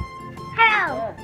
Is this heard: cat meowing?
yes